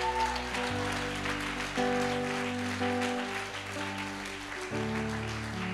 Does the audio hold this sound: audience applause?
yes